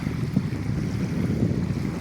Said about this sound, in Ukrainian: Хвилька, вітер, дощик.